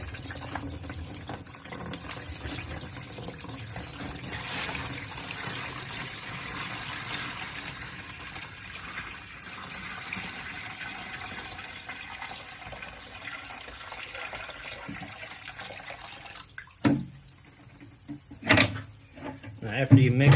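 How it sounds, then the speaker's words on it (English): Wood-protecting treatment poured into a plastic tote for soaking beehive equipment, a steady watery splash and gurgle that runs for most of the stretch before tapering into a few sharper knocks near the end. "I'm going to pour this treatment into that tote."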